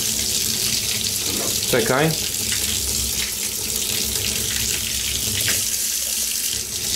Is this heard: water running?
yes